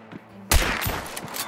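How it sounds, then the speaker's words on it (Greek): Gunfire in Hunt: Showdown: one loud, close shot bursts out, followed by a second hit and a long rumbling tail with scattered crackles, over a quiet ambient bed. "Μπορώ να τα διώξουμε πυροβολισμό."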